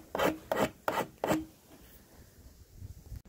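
A hand file rasps burrs off the cut end of an oil boiler's horizontal flue pipe in four close, loud strokes, followed by quieter handling noise.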